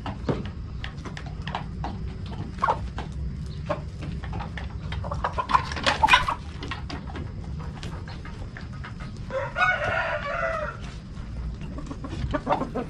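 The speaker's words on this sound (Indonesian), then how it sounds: "Di pagi hari saya langsung ke kandang untuk memberikan makan ayam-ayam saya teman-teman." Chickens and a rooster in a backyard coop at morning feeding time, with scattered clucks close by and a rooster call rising in the middle and again later over low background noise.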